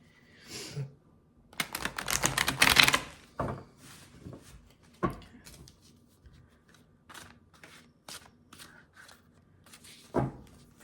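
Tarot cards are shuffled and riffled close by in quick, crisp bursts, with a longer flurry early on and scattered taps and flicks afterward.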